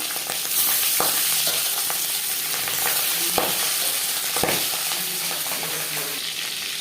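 Pangas fish seasoned with salt and turmeric frying in hot refined oil, a steady dense sizzle with occasional sharper pops and spatters running throughout, close and fairly loud with no talking.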